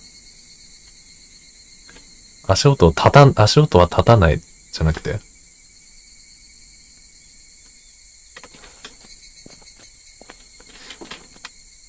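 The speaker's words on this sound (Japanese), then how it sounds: "その時聞こえたあまりにもうるさい日暮らしの鳴き声は、これから起きる惨劇を知らせようとしていたのかもしれない。" Higurashi cicadas call in a horror video game: a steady, shrill high-pitched drone runs unbroken through the scene while someone talks loudly over it in a few bursts.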